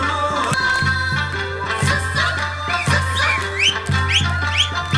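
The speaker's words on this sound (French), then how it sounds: "Vous entendez le bruit de fond, le sassa, sassa, et les sifflements" Lively Okinawan folk music with strings and percussion, sharp rising finger whistles and shouted calls cutting in repeatedly over the rhythm.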